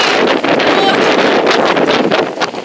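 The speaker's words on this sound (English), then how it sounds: "It's the middle of the day and it's still so windy." Strong wind buffets the microphone continuously, a loud roaring rush with gusty surges throughout.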